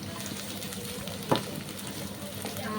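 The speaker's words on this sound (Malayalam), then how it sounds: "ഇനി കുറച്ച് പച്ചമുളക് കൂടി ഇട്ടു ഇനി ഒന്ന് മൂത്ത് വരട്ടെ" Ginger and green chillies fry in a pan for a pearl spot fish curry, a steady close sizzle with a single sharp scrape or clatter midway and no talking.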